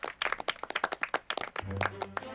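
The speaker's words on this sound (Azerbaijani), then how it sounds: "Alqışlara." Quick bursts of clapping and applause in an animated children's road-safety series, a rapid patter of claps that gives way to a low steady tone near the end.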